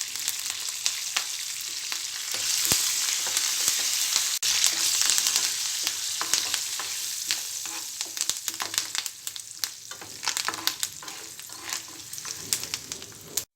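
Garlic, curry leaves and turmeric frying in a pan, a steady bright sizzle with crackling pops and occasional stirring clatter, close and alone.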